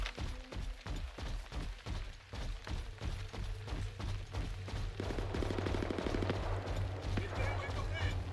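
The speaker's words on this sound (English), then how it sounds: "I hear gunshots" Gunfire in a video game, a run of sharp repeated shots with rapid bursts toward the end, set over steady game noise and background sound effects.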